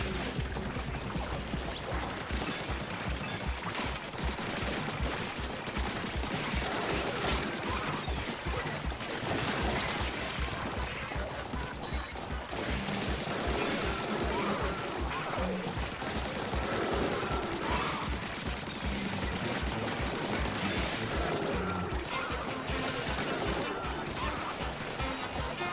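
Continuous gunfire and shooting effects in the video game Splatoon Raiders: dense, rapid bursts of shots with crashing hits run throughout, loud and nearly unbroken, with a voice talking over them at times.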